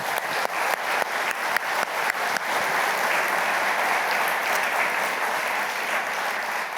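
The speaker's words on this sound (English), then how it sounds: "So please give them all a round of applause." An audience claps for a company team at a CEO discussion event, sharp individual claps at first before swelling into dense, sustained applause that fills the room without pause.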